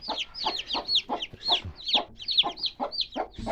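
Chickens with newly hatched chicks cluck and peep in a steady run of rapid, high calls, close and lively, with a single soft thump at the end.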